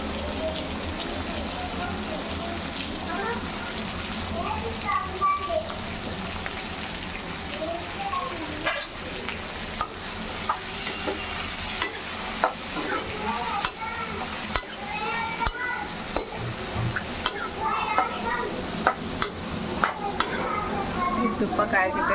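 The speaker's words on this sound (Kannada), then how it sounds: "ತುಪ್ಪ ಕಾಯ್ತಿದ್ದೇನೆ." Ghee sizzles and crackles steadily in a pan on a home stove, with stirring and scraping sounds and occasional clinks of utensils building over time, loud and close throughout.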